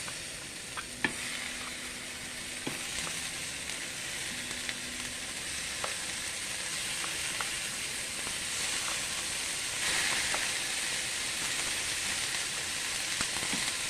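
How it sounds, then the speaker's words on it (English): Beef sizzles on a hot griddle, giving a steady close frying hiss with occasional faint pops and scrapes and no talking. "I'm going to place my beef on my griddle. It's hot, as you can hear it."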